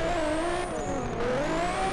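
A car engine revs hard in the Hashiriya Drifter drifting video game, a loud whining tone rising and dipping through quick throttle changes, close and uninterrupted.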